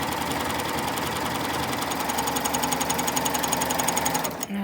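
A BabyLock Triumph serger stitching fabric through an 8mm binder, a fast, steady mechanical chatter running continuously up close before stopping abruptly at the end.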